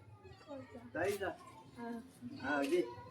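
A cat sitting on a person's lap meows a few times, close and fairly soft, with people talking around it in a home during Ganpati festivities.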